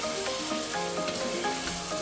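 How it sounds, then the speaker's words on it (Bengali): Boiled potatoes sizzling loudly in a pan with garam masala powder for Bengali aloo dum, a dense continuous frying hiss with faint stirring scrapes, close and steady, no voices. "একটু গরম মশলা গুঁড়ো দিয়ে দিলাম, দিয়ে নাড়াচাড়া করব"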